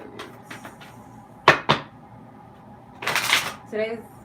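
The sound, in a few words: shuffling Romance Angels Oracle cards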